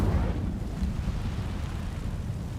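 The Incendio fire spell is cast in Hogwarts Legacy, setting dry vines ablaze with a loud, rumbling whoosh of flame that starts strong and then sustains as a dense crackling roar.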